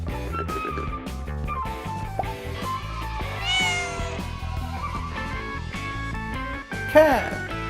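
A cat meows a couple of times over cheerful background music, one short high meow standing out near the end.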